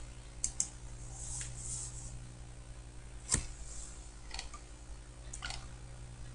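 A few sparse, faint key taps on a computer keyboard while entering values in CAD software, over a steady low hum.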